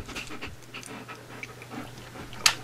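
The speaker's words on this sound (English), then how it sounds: "And that noise in the background was my dog." A dog pants in the background of a quiet room with rapid, rhythmic soft huffs. A sharp tap or click is heard near the end, and no one speaks.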